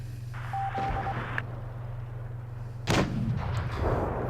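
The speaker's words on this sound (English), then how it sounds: "Positive putting some shots into the IS-8" Tank cannon shots hit an IS-8 in a tank battle video game, with booming reports and a sharp heavy impact midway, over a low engine drone and faint interface beeps.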